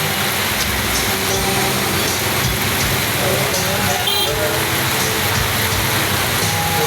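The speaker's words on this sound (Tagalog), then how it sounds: "Lakas ang ulan." Heavy rain pours steadily outdoors on a roadside in the Philippines, a dense, loud, continuous hiss, with a faint engine rumbling underneath and brief voices in the background.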